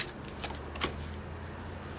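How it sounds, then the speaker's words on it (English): Tarot cards being shuffled by hand, a soft, close riffling patter with a few brighter flicks, faint and continuous with no talking. "I've been shuffling."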